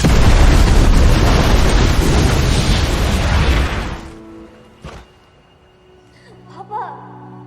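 A house blows up in a film scene: a loud, sustained blast with a thick rumbling roar for several seconds, then a sharp cut to near quiet broken by a couple of faint later thuds.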